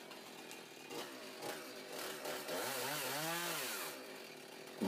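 A chainsaw runs nearby, idling and then revving hard as it bites into a wood blank for a natural edge bowl for a couple of seconds before easing back down.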